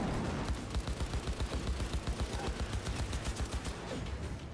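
Rapid gunfire from the player's weapon in Cyberpunk 2077, a dense run of evenly spaced shots rolling on for several seconds at close range with no talk over it.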